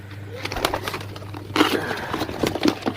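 Pigeons at a bird market in Pakistan coo in soft repeated low phrases close by, with scattered wing flutters and clatter around them and no talking.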